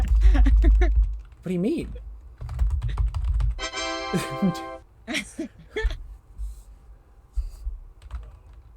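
Rapid clicking of computer keyboard keys in the PC game Ed Balls Teaches Typing, short bursts of taps between stretches of people talking, with game sound effects and low background noise.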